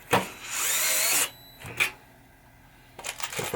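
Power drill driving screws into a 1973 Williams Travel Time pinball playfield during reassembly: a sharp burst, a sustained whine of about a second, a short blip, then more rattling bursts.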